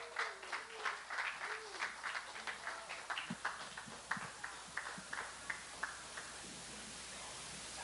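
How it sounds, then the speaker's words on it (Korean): A church congregation applauds a couple invited to the front during a Sunday service, a steady patter of clapping with some sharper individual claps, fairly faint and roomy, with a voice briefly speaking at the start. "따뜻한 격려의 박수를 부탁드리겠습니다"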